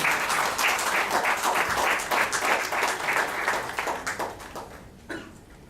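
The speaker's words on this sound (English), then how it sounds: "Please put your hands together, and with warm applause" Warm applause from a conference audience welcoming the founder of Money Trade Coin to the stage, a full, sustained patter of many hands that gradually tapers off at the end.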